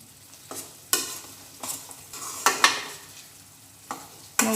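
A spoon stirs garlic frying in a pan for pickle, giving a soft background sizzle broken by sharp, irregular scrapes and clinks against the pan, close by and moderately quiet.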